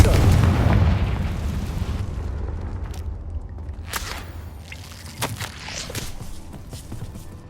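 Confringo fire spell explosion in Hogwarts Legacy, a heavy booming blast that rumbles and fades, followed by a few sharp crackling bursts.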